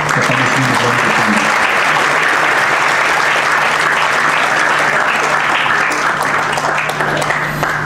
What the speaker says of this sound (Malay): saya mohon untuk kita sama-sama berikan tepukan gemuruh kepada semua orang kita